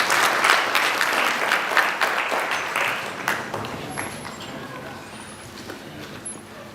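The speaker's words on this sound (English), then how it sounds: "A round of applause, ladies and gentlemen." A seminar audience applauds in a dense, steady round of clapping that fades gradually toward the end, with a voice speaking over it.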